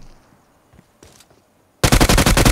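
Loud burst of rapid gunfire in the battle royale game BGMI, after near silence with a few faint clicks, shots firing in a fast repeating rhythm close up, though the exact weapon type cannot be confirmed.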